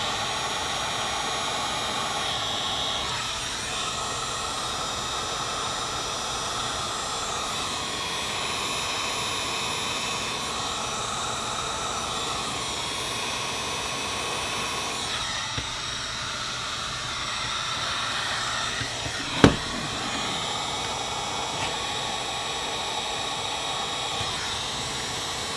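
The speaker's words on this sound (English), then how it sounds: "So this is a heat gun." A heat gun blows hot air during a repair of a wired Xbox controller, a steady, loud, continuous rushing hiss that holds for the whole stretch with only a brief click late on and no talking.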